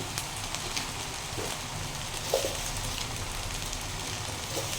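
Egg fried rice frying in a pan for a Chinese-style dish, a steady dense sizzle running throughout, close and even with small crackles and no talking.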